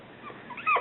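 A happy little pup lets out a short whimpering whine that rises near the end, close and fairly quiet, with no talking over it.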